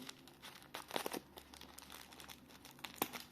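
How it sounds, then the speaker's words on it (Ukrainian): A plastic wrapper crinkles and rustles softly up close, with a few sharper crackles and tearing sounds between quiet pauses. "Цей пакетик ми вже акуратно відкриваємо."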